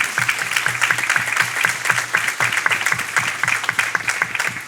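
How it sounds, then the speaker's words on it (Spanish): A congregation applauds during a Sunday church service, a close, brisk burst of many hands clapping in quick rhythmic patter that holds steady throughout. "Un aplauso para el Señor."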